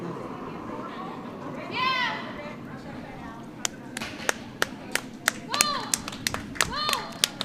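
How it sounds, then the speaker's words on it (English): Curling teams come off the sheet after a game at a women's tournament, greeted by scattered, sharp hand claps ringing out in the arena, preceded by a brief voice and faint chatter underneath. "That applause you hear in the background are the two teams coming off Sheet A after their game"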